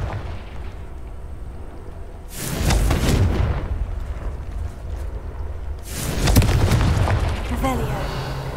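A Confringo explosion spell goes off in a video game, two booming blasts a few seconds apart, each swelling into a rumbling roar that fades slowly over a steady low ambience.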